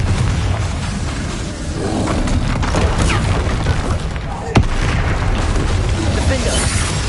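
Spell explosions from Confringo casting in the Hogwarts Legacy video game crackle and boom in a dense, continuous flurry of blasts, with one sharp burst standing out midway.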